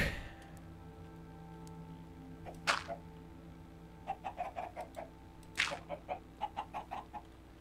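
Minecraft chickens cluck in two quick bursts of short, repeated clucks over a steady low background drone, with no talking.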